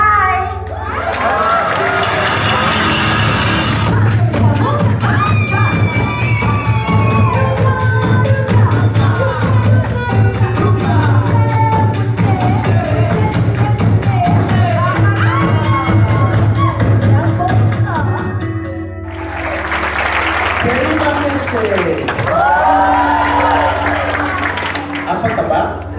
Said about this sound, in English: You're not responding, you're just cheering.